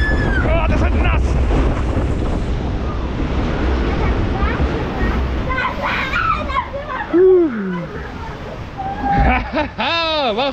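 A log flume boat on the Traubenrutsche water ride at Taunus Wunderland rushes loudly through water with steady wind and spray noise, heard up close from on board, under excited shouting and laughter from riders.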